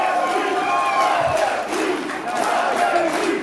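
A wrestling crowd at a live C*4 Wrestling show roars and chants loudly and continuously, a dense wall of massed voices rising and falling in waves.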